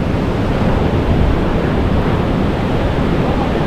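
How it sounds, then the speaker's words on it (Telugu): Monsoon ocean waves crash in fast at Anjuna Beach, Goa, in August, making a dense, unbroken roar of surf close by, mixed with heavy wind noise on the microphone. "ఎంత స్పీడ్గా వస్తున్నాయి చూడండి అసలు అలలు"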